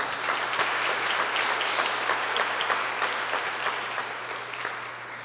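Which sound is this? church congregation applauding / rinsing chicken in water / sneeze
church congregation applauding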